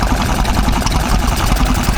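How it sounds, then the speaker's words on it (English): A Petter oil engine idles steadily at a country show, turning a water pump with an even, knocking low-pitched chug close by, unbroken and without voices. "Here's a Petter oil engine."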